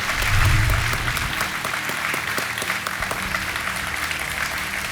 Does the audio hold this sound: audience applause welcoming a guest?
yes